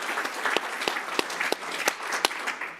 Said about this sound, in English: can we just get another round of applause for Bill McKibben?